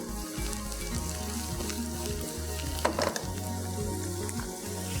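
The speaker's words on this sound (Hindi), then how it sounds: "रोस्ट कर लेते हैं ब्लैक पेपर, कुटी हुई काली मिर्चें।" Crushed black pepper roasts in a hot pan, giving a continuous dry sizzle with a low, rhythmic tonal hum running beneath it and a brief louder scrape near the middle.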